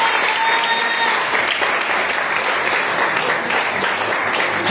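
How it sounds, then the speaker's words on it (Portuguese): Steady applause from a church congregation during a sermon, broad and continuous with the crowd clapping together throughout, close and fairly loud, with faint voices mixed in. "Você que pode aplaudir e glorifique o nome do Senhor."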